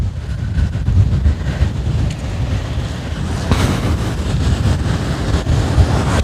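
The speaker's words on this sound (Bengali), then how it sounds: "এই যে পাতায়া সমুদ্র সৈকত।" Surf rolls in on Pattaya beach in Thailand in the evening, a continuous loud wash of breaking waves mixed with gusty wind buffeting the microphone, with no voices.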